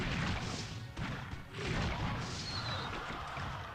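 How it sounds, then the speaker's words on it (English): Explosions and crashing impacts in the mobile strategy game Clash Royale, a dense continuous barrage of booms and thuds filling the whole stretch, loud and layered with no clear pauses. "Explosion, etc."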